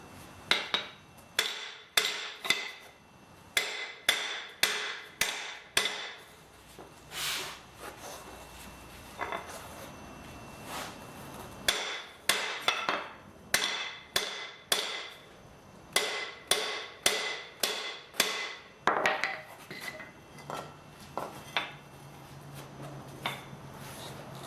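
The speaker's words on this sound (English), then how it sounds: "You can take a larger hammer, knock them out" Sharp metallic hammer blows ring out in steady bursts, dozens of strikes in quick series with brief pauses between sets, close and clear, knocking pressed bolts out of a Nissan 240SX suspension.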